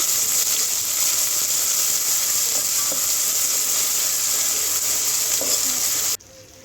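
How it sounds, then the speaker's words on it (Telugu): Ginger garlic paste sizzles in a hot pan as part of a liver biryani, a steady, close frying hiss that carries on without pause and then cuts off abruptly near the end. "దీనిలోనే ఒక రెండు స్పూన్ల అల్లం వెల్లుల్లి పేస్ట్ వేసుకొని పచ్చివాసన పోయే వరకు అయితే ఫ్రై చేసుకోవాలి"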